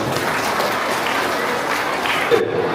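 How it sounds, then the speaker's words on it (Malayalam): Warm, continuous applause from a school crowd for a student at an AMUP School Mongam admission festival, a dense steady clapping filling the room. "മിസബിന് ഒരു നിറഞ്ഞ കയ്യടി കൊടുക്കാം."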